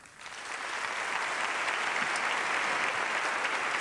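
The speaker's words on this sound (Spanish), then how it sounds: "Siguen los aplausos" Audience applause at the Seville Holy Week proclamation, a dense crowd clapping that swells in quickly and holds steady and full, with no speech over it.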